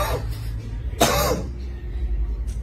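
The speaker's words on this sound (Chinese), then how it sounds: "我咳嗽一下" One sharp, close cough bursts out in the middle of a backstage interview at a music awards event. Quiet room tone and murmuring come before and after it.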